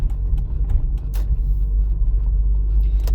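A car pulls slowly out onto the road during a driving exam, heard from inside as a steady low engine and tire rumble with a few faint clicks and knocks.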